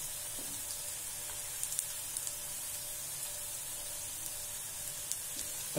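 Pakoda (pattanum or methu style) frying in hot oil, giving a steady, soft sizzle with a few faint clicks from occasional stirring; no one speaks.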